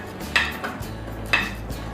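Chocolate cupcake batter is gently mixed in a bowl, making soft scraping strokes with two sharper clinks of a utensil against the bowl's side, close and unaccompanied by talk.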